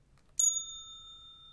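A single percussion bell sample from Sonic Pi strikes once, sharp and bright, then rings on with a clear, slowly fading tone over a faint low hum.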